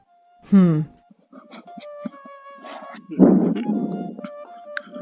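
A single dog bark rises and falls sharply in The Blackwell Legacy (2006), a PC adventure game, followed by quieter in-game tones and background sounds.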